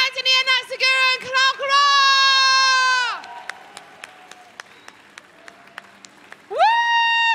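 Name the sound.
audience applause and cheering for performers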